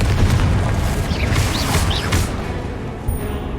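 Confringo blasting spell going off in Hogwarts Legacy during a spell-slinging fight: loud, deep booming blasts with crashing impacts in a steady, dense rumble, no talk over it.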